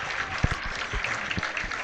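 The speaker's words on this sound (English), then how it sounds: "Everybody's clapping." Crowd at a high school football game clapping steadily for an Iowa National Guard soldier, a dense patter of hands with a few louder claps, no voices on top.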